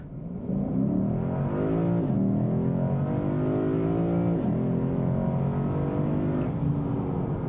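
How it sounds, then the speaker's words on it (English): A Lexus IS 500 F Sport's 472-horsepower V8 with an 8-speed automatic accelerates hard, the loud engine note climbing through several upshifts heard from inside the cabin, with no talking. "I think it's time we make a run for it acceleration-wise."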